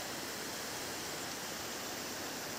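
Waterfall at Kolli Hills in Tamil Nadu, water falling from about fifty feet, a dense, steady broadband roar that fills the whole moment without any pause.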